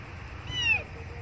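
An abandoned kitten lets out one loud, high, rising-and-falling meow, close by, against a quiet background hum.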